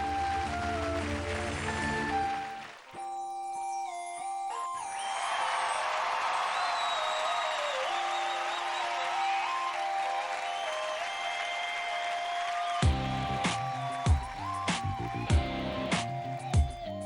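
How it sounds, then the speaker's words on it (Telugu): A game show audience claps steadily in sustained applause, the clapping overlapped by loud musical tones and chimes, with a few sharp accented hits near the end. "ఓకే చప్పట్లు కొట్టు."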